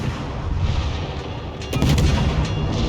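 Warship guns fire in World of Warships as deep, rumbling booms over a steady roar of battle ambience, with a heavier blast arriving partway through.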